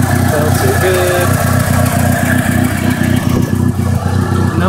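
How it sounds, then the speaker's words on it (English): A 1987 Shelby CSX Shadow engine idles steadily with a low, rhythmic rumble, close and loud throughout. "no noises, car's running fine"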